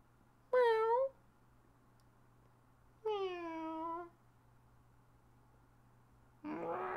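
A person imitates a cat with two drawn-out, harmonic meows, the first short and the second longer, over a low steady hum, followed by a burst of noisy sound at the end.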